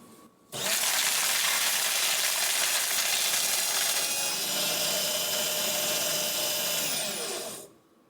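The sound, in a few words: paper shredder shredding a sheet of paper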